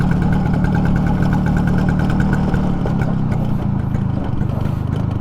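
A 1978 Vespa Super scooter's small two-stroke engine runs steadily while being ridden around a residential complex, a close, continuous buzzing drone with a slight change in pitch toward the end.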